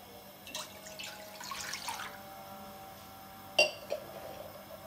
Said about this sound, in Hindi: अब मैं इसमें डालने लगी हूँ एक गिलास पानी।